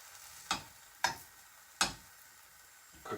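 Banana protein pancake cooking in a frying pan, with a soft background sizzle and three sharp taps of a utensil against the pan, then a fourth at the end, faint and close without talk.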